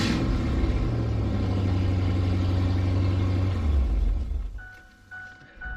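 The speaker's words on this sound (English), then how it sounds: "give it a little rev." A Ford Mountaineer with a modified glasspack exhaust revs up into a loud, deep rumble that holds for about four seconds and then drops back toward idle.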